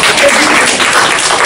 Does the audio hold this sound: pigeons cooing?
no